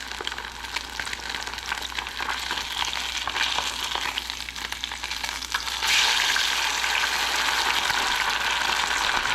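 Breaded fish frying in previously used oil, a steady dense sizzle and crackle that grows louder and brighter partway through, continuous and close, with no talking.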